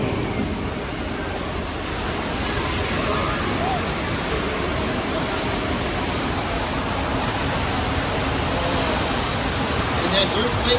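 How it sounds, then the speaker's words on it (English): Rushing water floods a set during the Earthquake attraction on the Universal Studios Hollywood studio tour, a loud, steady broadband roar of cascading water that runs continuously without a break. "Uh-oh, on the right, water, lots of it."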